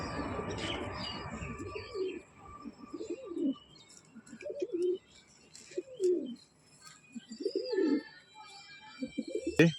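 Several low, soft pigeon coos repeat at a steady pace, with faint chirps and a brief wing flutter in the background, no talking.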